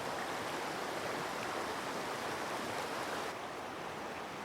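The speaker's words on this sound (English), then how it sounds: "The symphony of water and stones sounds unsurpassed." A stream rushes over stones among giant redwoods, a steady, even hiss of flowing water with no breaks, close and moderately loud with no other sounds.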